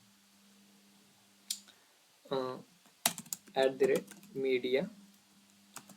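A CSS media query is typed on a computer keyboard in short bursts of quick, close clicking keystrokes, separated by pauses, while a person talks over and between the bursts.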